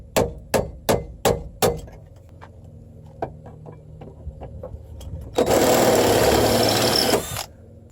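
Drilling out a door hinge pin on a Ford F150 begins with five sharp metallic hammer-like strikes, then light ticking and tapping, followed by a loud sustained drill whir lasting about two seconds before it cuts off.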